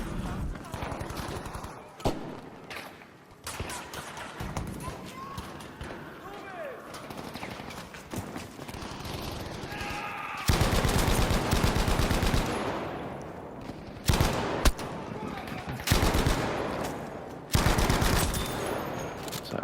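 Bursts of Bren machine gun fire ring out during an underground Conquest match in Battlefield 5, firing in repeated volleys with short gaps between them while someone talks over the shooting.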